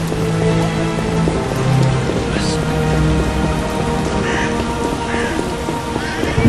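Steady rain patters loudly and continuously, with a dense wash of drops throughout and faint low tones beneath.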